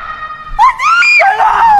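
A woman in hotel room 402 lets out a loud, close scream that rises and wavers for over a second in a sustained, shrill cry.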